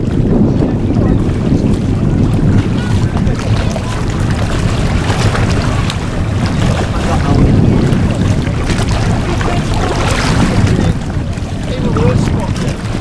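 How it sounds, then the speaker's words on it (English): Offshore superboats warm up their engines on Lake Macquarie, a low, continuous rumble heard from the bank under heavy wind buffeting, with voices talking over it. "some of the boats starting their engines up on the banks of Lake Macquarie"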